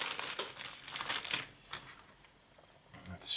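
Plastic bags holding sprues from a Gecko Models Cruiser tank A10 Mk 1A CS model kit crinkle and rustle close by in uneven bursts, fading to quieter handling partway through.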